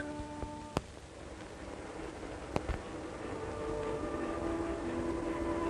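A Denver and Rio Grande Railroad train rumbles steadily with a low mechanical drone, punctuated by two sharp clanks, the noise swelling slightly toward the end.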